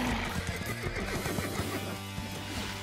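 Cartoon horses whinnying and neighing in a stable or show setting, several calls overlapping with hoof clip-clops, close and steady with no talk.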